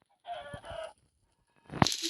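A chicken in Minecraft gives two short bursts of clucking, then a louder clucking call after a pause, close and clear, with no talk over it.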